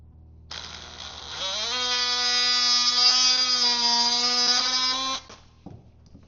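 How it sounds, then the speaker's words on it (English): An oscillating tool trimming excess boat canvas, a loud, steady high-pitched mechanical whine that starts abruptly, holds for about four seconds and cuts off sharply, heard alone. "To trim it, just going to use an oscillating tool."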